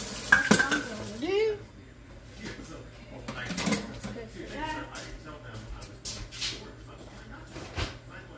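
A spoon stirs cornstarch into strawberry pie filling in a pan, with clinks, scrapes and soft stirring sounds in intermittent bursts, heard up close while someone talks.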